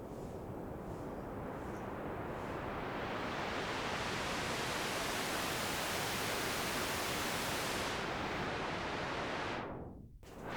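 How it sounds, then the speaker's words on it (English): White noise runs through an Erica Black low-pass filter with no resonance: a steady, loud, broadband hiss that holds for about eight seconds, then darkens and sweeps down before cutting briefly near the end. "So white noise, no resonance."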